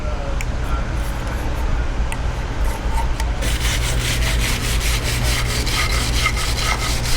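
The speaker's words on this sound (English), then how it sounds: "then I'm going to use a wire brush to clean off the rest, get back to bare aluminum" A wire brush scrubs an aluminum surface on a Duramax diesel truck back to bare metal, making rapid, rhythmic scratching strokes that grow louder and harsher partway through, over a steady low background hum.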